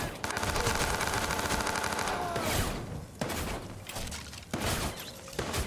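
Rapid gunfire from the player's own weapon in the video game Watch Dogs 2, dense continuous shooting with crashing impacts and a hectic game mix underneath, several loud bursts back to back.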